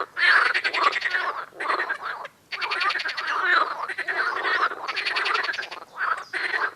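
A loud chorus of marsh frogs croaking in rapid, rattling bursts in West Siberia, several calls overlapping close by with brief gaps between them.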